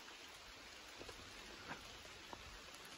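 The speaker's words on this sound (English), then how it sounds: "We are getting some rain, a little bit of thunder" Soft, steady rain hisses faintly in the background at Kent Pond on the Appalachian Trail, with a few isolated drips tapping now and then.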